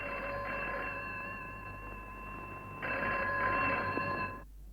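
A telephone rings in a Hindi stage play, two bursts of bright electronic trilling separated by a short gap, moderately close, with a quiet room behind and no talk.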